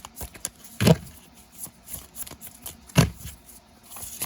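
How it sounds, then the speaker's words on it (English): A deck of Art of War oracle cards is shuffled in two short, crisp riffling bursts a couple of seconds apart, close by, with quiet handling rustle in between. "So it's better to always shuffle them like this."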